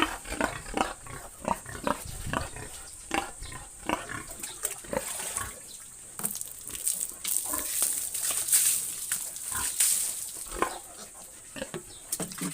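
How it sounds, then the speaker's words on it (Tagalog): Short grunts and squeals from a pet pig being bathed repeat through the clip over running water splashing, with a high hiss throughout. "Ito pong aming alagang baboy"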